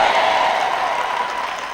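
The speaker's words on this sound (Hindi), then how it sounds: "मैं इन 12 या 15 लोगों के लिए खुश हूं जो इस प्रवचन के लिए तालियां बजा रहे हैं।" Applause from a small audience of about a dozen people at a sermon, a brief, even wash of clapping that stays steady and moderately loud for under two seconds.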